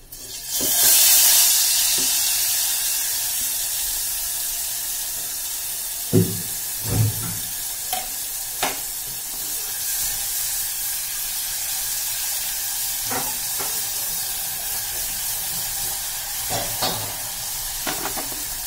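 Crushed green chili thecha frying in hot oil in a pan, a loud burst of sizzling that settles into a steady hiss, broken by intermittent scraping and clinking of a spoon as it is stirred.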